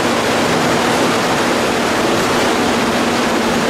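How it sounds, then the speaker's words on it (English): A fluidized bed of casting slurry for bronze sculpture, with a blower forcing air into the bottom, gives a loud, steady, even rush of air, constant throughout with no breaks. "There's a blower outside, blows air into the bottom, and this looks like quicksand."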